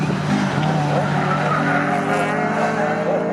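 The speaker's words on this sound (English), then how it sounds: "Ray Honeybrook in the Clio leads in Class C" Saloon race cars, including a Renault Clio, race around Snetterton circuit with sustained loud engine roar and tyre noise throughout, a commentator's voice running faintly underneath.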